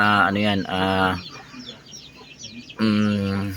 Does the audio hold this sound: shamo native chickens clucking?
yes